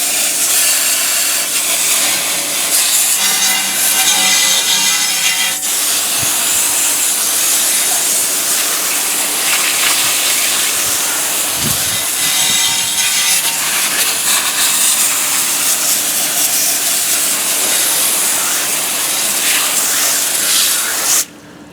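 A garden hose sprays water steadily into wheel barrels, a continuous loud hissing wash that runs unbroken for the whole stretch with slight shifts in intensity as the stream moves.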